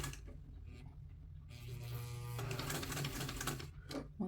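A sewing machine backstitches a collar seam with a quick, close whirring stitch that runs for a couple of seconds between faint handling noises, with no talking.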